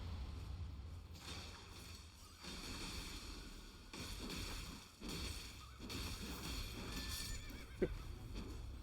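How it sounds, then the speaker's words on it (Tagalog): A horse neighs and whinnies loudly in the Elden Ring Nightreign video game, with clip-clop hoofbeats and whooshing game effects around it. "Ba't may kabayo?"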